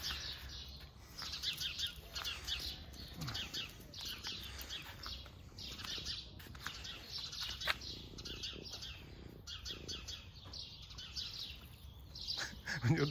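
Small birds sing outdoors on a bright day, with many quick, high chirps and trills repeating throughout over a soft background hum, fairly distant and steady, with no talking.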